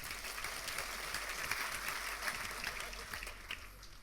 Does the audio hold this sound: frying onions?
no